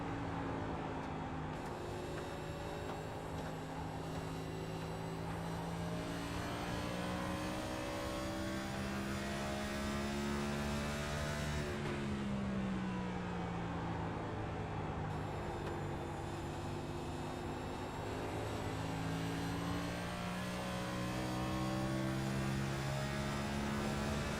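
Onboard a NASCAR Cup car at Phoenix in practice, a steady droning engine note that rises and falls as the car brakes and accelerates, continuous and loud throughout.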